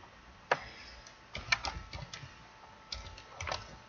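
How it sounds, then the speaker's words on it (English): Keys tapped on a computer keyboard at a desk, a few soft scattered clicks and short bursts of keystrokes, faint and close, with no talking over them. "And then we'll type that in."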